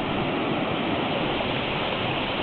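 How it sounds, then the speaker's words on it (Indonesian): Tetewa waterfall in Kolaka Timur, fed by the Parau and Liku rivers, roars as a steady, loud, dense rush of falling water, close by and unbroken. "merasakan dinginnya air terjun Tetewa yang airnya bersumber dari Sungai Parau dan Sungai Liku"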